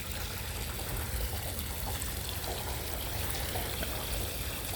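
Water pouring out of a chambered sump yard drain system, a dense, steady rushing gush that holds at the same level throughout with no voices.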